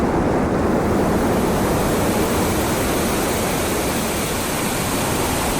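Lovers Leap Waterfall in Sri Lanka's highlands, heard from the lower viewpoint as a loud, steady, broadband roar of falling water that runs unbroken and fills the whole stretch with no voices.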